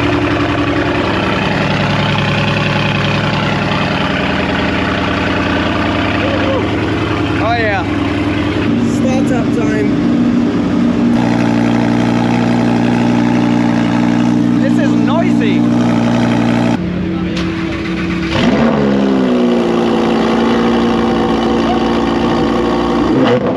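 A Lamborghini Aventador's engine idles nearby in a deep, steady drone, with revs shifting now and then and people talking over it.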